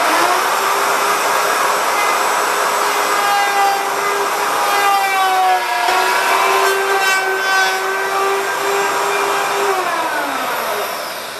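A router on a home-made router table cuts wood with a loud, high whining tone and rough shaving noise, the pitch sagging and recovering as the bit bites in, then winding down.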